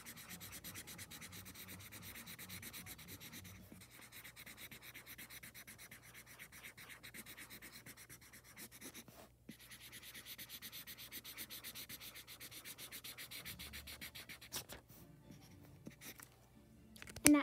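Marker or pencil rubbing steadily across paper while filling in a green watermelon drawing, a continuous close scratchy scribbling with brief pauses, no voices.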